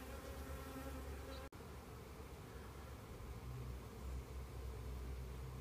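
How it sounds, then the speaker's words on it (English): Honeybees gather on top of a hive with a steady, close, buzzing drone, broken once by a sharp click. "I'm getting a lot more bees on top of the hive"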